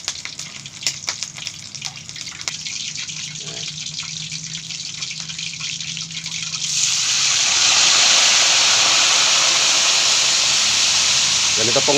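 A pork leg frying in oil crackles and pops at a moderate level, then water poured over it sets off an abrupt, much louder, steady steam hiss that continues to the end.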